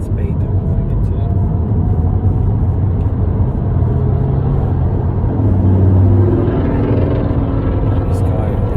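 A car accelerates along a motorway slip lane, heard from inside as a loud, steady low road-and-engine rumble that builds slightly toward the end.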